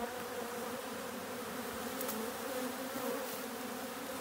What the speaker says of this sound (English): They're all trying to defend and fight off those bees